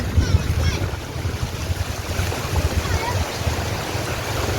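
Steady rushing water fills the clip, a broad continuous wash with low rumbling churn, fairly close and loud, like a swollen river flowing past; the Saraswati river near Patan, Gujarat, running full.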